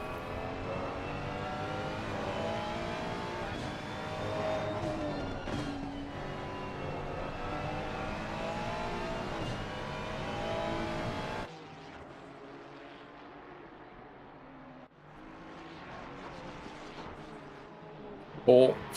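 A Honda GT3 race car in a simGT3 sim race at Donington, its engine droning and revving with shifting pitch, joined by other engines and briefly dropping away before surging back, under a race commentator's voice.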